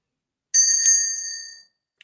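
A small bell rung once at the opening of an online space session, a bright ringing tone that sustains and fades over about a second, heard alone with no talking.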